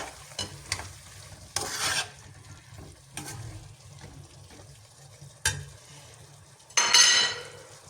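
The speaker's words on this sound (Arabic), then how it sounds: "هلا بدي نزل عليهم حبة من البندورة مقطعة بشكل ناعم" Finely chopped tomato tipped onto chicken searing in a hot pan, heard as intermittent bursts of sizzling and stirring with utensil clinks between quieter gaps, close up.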